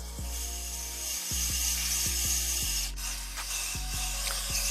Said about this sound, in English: We're simply gonna spray those down.